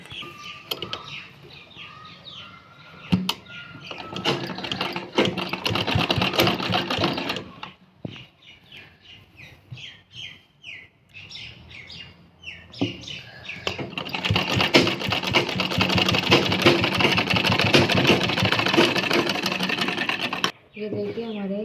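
A sewing machine runs in bursts as blouse pieces are stitched together, whirring loud and close with a fast needle rhythm, pausing in the middle. Someone talks over and between the stitching runs.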